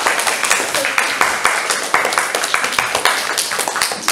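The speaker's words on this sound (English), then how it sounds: "So a big round of applause for Mrs. Wood, please." A roomful of people at an assembly claps steadily, a dense, sustained round of applause with overlapping hand claps throughout.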